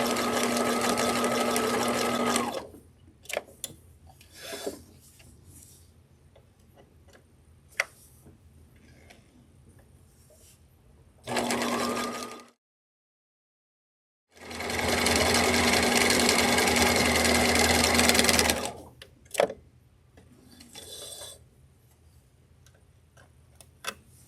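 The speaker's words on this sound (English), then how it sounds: "I'm going to sew off the end and then turn the piece and continue that way." A sewing machine runs a zigzag stitch along a pillowcase edge in loud, close bursts, a long run, a short one and another long run, separated by quieter gaps with light ticks and clicks.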